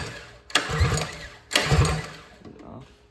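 A Motovox mini bike engine idles roughly on its mount, swelling in two loud bursts of revving then settling back, with a voice speaking briefly over the running motor.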